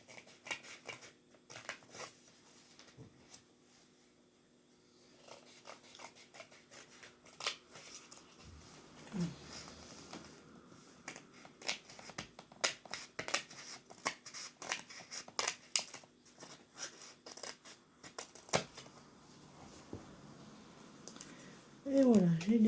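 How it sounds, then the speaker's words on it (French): Paper flowers being cut out of a craft page with scissors for a three-panel card, giving soft, irregular snips and rustles close by, with faint paper shuffling and a voice briefly heard near the end. "Et voilà, j'ai découpé ces belles petites fleurs."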